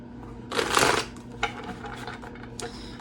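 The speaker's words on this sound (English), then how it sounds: "I do one more shuffle with that." Tarot cards are shuffled in one quick, dense burst of riffling, followed by a few lighter taps and card slides in a quiet room.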